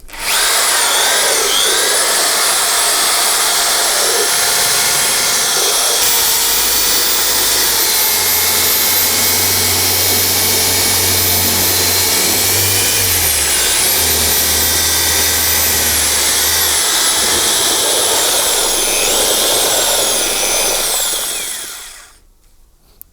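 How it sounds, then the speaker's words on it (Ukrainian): Homemade electric drill mixer churning Muscat, Isabella and Lidia grapes, a loud continuous high whine with shifting pitch and a deeper churning hum in the middle, stopping near the end. "Фуркало таке дрельку, включаємо швидкість і поїхали."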